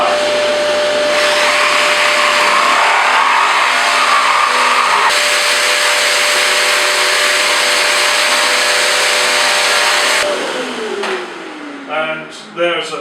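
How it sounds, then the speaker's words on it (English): A router on a trammel cuts wood with a loud steady whine over the constant roar of a dust extractor, then winds down with a falling pitch near the end, followed by scattered clicks and handling noises. "I'm going to turn my dust extractor on. I'll start making my cut."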